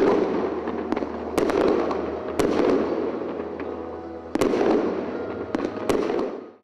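Closing fireworks at a town festival in Ostrov burst overhead in sharp, loud cracks every second or so, each bang trailing into crackling rumble that fills the gaps between explosions, with no voices heard.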